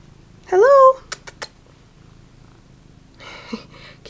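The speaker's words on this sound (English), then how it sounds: "Can you guys hear how loud he's purring?" A cat's brief vocal chirp and a few small taps, then a low, soft rumbling purr running quietly underneath, close by.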